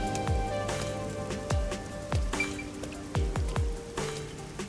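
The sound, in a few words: rain falling in a city, from a video game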